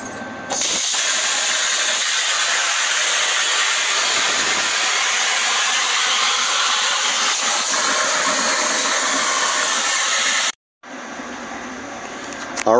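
A cutting table slices a steel bracket for a Ford F100 frame, giving a loud, steady hiss for about ten seconds that stops abruptly, followed by a short, quieter tail.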